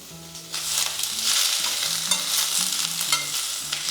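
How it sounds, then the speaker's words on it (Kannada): Sliced onions and curry leaves fry in a pan for onion chutney, giving a steady close sizzle with scraping stirring strokes, while soft background music plays underneath. "ಈರುಳ್ಳಿನ ಲೈಟಾಗಿ ಫ್ರೈ ಮಾಡ್ಕೋಬೇಕಾ ಅಥವಾ ಸ್ವಲ್ಪ ಚೆನ್ನಾಗಿ ಬೇಯಿಸಿ ಹಸಿ ವಾಸನೆ ಹೋಗಬೇಕು"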